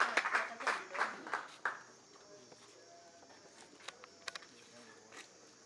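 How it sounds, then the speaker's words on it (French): Applause from a crowd at a king's certification ceremony in Cameroon, a short bright burst of clapping that fades within two seconds, leaving a quiet room with a few scattered claps. "Donc je voulais que vous acclamiez très fort pour ça."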